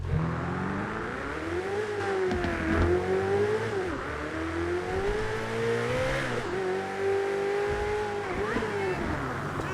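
A sports car engine in GTA V revs up and down repeatedly, its pitch rising and falling in smooth sweeps over a steady drone.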